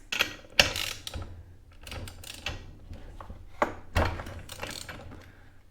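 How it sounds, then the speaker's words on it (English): A socket ratchet works a spark plug loose on a Craftsman chainsaw, heard as scattered close metallic clicks and clunky handling knocks, irregular and fairly quiet, no talking. "We're gonna use our 3/8 socket, or our 3/4 socket."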